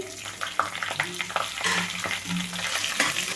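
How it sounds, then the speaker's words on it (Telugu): Cumin, dry red chillies and green chillies fry in hot tempering oil for lemon pulihora, a steady close sizzle with crackles and the scrape of stirring, no talking. "ఇప్పుడు జీలకర్ర ఎండుమిరపకాయలు పచ్చిమిరపకాయలు కూడా ఒకేసారి వేసుకోండి"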